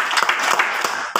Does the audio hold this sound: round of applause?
yes